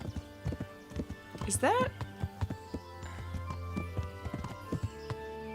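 Horse hooves clip-clop in a steady rhythm while riding in the medieval game Kingdom Come: Deliverance, with a short whinny partway through and someone talking over the hoofbeats.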